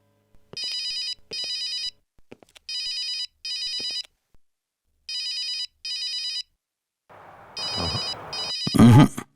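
A telephone rings in repeated double bursts, five times, with no answer, followed by a short clatter and rustle close by.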